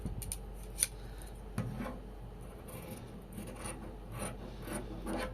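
Scissors snip through fabric at the neckline of a girl's dress, with a few quiet, separate cuts and soft rubbing close by over a faint background.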